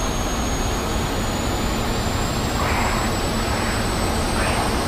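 A steady, roaring jet rush of broadband air noise with a thin high whine across it, unbroken and close, from airflow separation at high angle of attack on a MiG-15bis in the DCS flight simulator.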